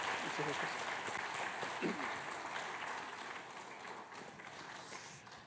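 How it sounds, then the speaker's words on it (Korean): Congregation applauding in a church during a Sunday service right after an infant baptism, a dense, steady wash of clapping through the whole stretch that slowly eases, with faint voices mixed in. "끝에 아멘 하실 때 같이 큰 박수 부탁합니다"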